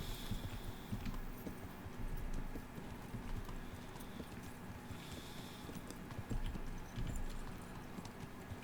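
Horse hooves clip-clop steadily in the medieval video game Kingdom Come: Deliverance, a continuous walking rhythm at moderate distance over a faint ambient background.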